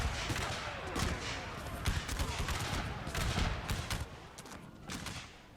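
Musket volleys crackle from units opening fire in a Total War–style battle game, a dense, continuous spatter of overlapping shots rolling on and off for several seconds, fairly loud and close.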